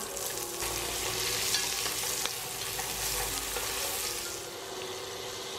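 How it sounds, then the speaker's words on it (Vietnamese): Chili and tomato frying in a pan for Vietnamese fish cake noodle soup, a loud steady close sizzle with faint stirring scrapes throughout, no voices. "Mình vừa bỏ ớt vào đây, ớt và cà chua."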